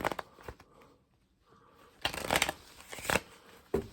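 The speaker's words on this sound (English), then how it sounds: "Then you cut, give it a shuffle." A deck of playing cards being shuffled during a card trick, with a few crisp riffling bursts separated by short pauses, close and moderately loud.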